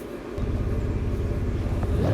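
Toyota Supra engine in Forza Horizon 4, a low steady rumbling drone that thickens after a brief quieter start, heard alone and close for a couple of seconds.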